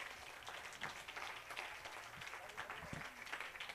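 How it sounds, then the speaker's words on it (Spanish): Quiet, distant clapping from a church congregation during an evangelical service, scattered and uneven, with voices murmuring through it. "Dele aplauso al Señor."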